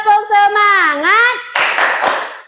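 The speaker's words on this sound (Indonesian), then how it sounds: "Tepuk semangat." Children in a classroom clap a spirit clap, a burst of loud rapid hand claps following a stretch of sung, chanted voice.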